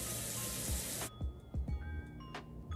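Tap water runs steadily to rinse cleanser off a face, then cuts off, leaving a few close splashes and drips in a bathroom sink.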